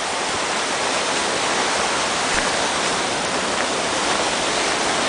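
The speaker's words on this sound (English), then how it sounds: "there's a little stream coming off the side of the mountain here" A small mountain stream runs down the hillside toward a main river with a steady, close, broadband rush of water, no voices.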